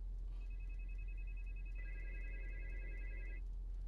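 A phone rings from an unknown number, a faint electronic ringtone of steady beeping tones over a low constant hum.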